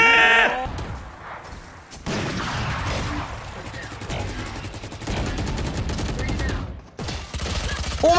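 Rapid gunfire in Valorant crackles in bursts and single shots, close and loud, mixed with other sharp in-game effects and brief gaps of near silence.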